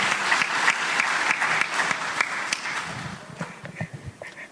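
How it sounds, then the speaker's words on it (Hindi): Loud audience applause at an event with Bollywood stars and Kailash Kher rolls on thickly at first, then thins into scattered, separate claps near the end. "जोरदार तालियां."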